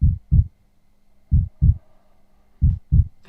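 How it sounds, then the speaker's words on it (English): Heartbeat sound-effect sample for music production, three clear double thumps (lub-dub pairs) at a slow, steady pace, deep and prominent, with a faint hum between beats and no voices. "let's search for heartbeat on Splice and see what we find"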